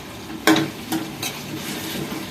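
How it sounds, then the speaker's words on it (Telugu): Tomato pieces cook in a pan for jeedi pappu curry as a spoon stirs them: a few distinct scraping strokes over a soft, steady sizzle, heard up close with no voices. "టమాటా ముక్కలు వేస్తున్నాను."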